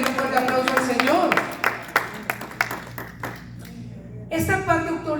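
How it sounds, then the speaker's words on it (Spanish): Church congregation clapping in a burst of applause with overlapping voices and musical tones, fading briefly before a loud swell near the end. "Denle un fuerte aplauso al Señor"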